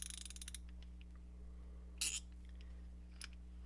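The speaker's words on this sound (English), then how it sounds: "I kind of tweaked the heart spring inside to get a lighter back drag" A Top Kogyo Handy-Ratchet, a Japanese stubby ratchet with its spring tweaked for lighter back drag, gives a fast run of small clicks followed by a few isolated soft ticks, faint and close.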